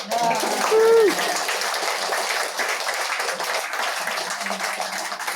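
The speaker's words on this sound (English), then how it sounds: "I applaud you." Applause from an audience at a community poetry and theatre evening staging A Midsummer Night's Dream, a steady, moderately loud wash of clapping lasting several seconds, with a brief voice near the start.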